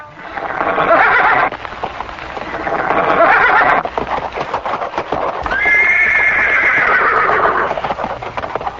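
A horse neighs loudly and repeatedly in long whinnies, several drawn-out calls spread over the stretch with clip-clopping hooves underneath, an animal portraying the horse demon Kesi charging in rage.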